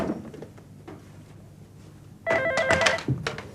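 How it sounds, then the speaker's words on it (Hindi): A telephone bell rings in a short, loud burst after a stretch of quiet room sounds and faint knocks in an indoor drama scene, ending with a brief clatter. "फोन सुनो, फोन।"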